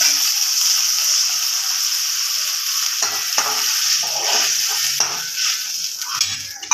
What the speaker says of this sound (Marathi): तर आपण आता याच्यामध्ये एक ग्लास पाणी टाकत आहोत